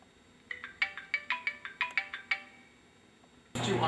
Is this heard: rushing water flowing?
no